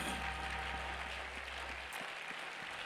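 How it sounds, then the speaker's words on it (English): A church congregation claps hands together in worship, a dense, steady wash of applause that fills the room, then thins into a few distinct, evenly spaced claps toward the end. "let's clap our hands unto him and give him thanks"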